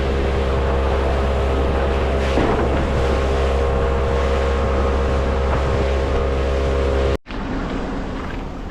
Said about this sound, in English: get this boat out of the water